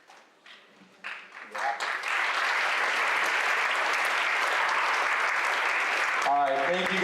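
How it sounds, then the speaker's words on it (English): Audience applause for leadership students at an annual leadership summit, scattered claps swelling into sustained, loud clapping from a crowd that carries on steadily for several seconds before easing near the end. "let's give a round of applause to these leadership students"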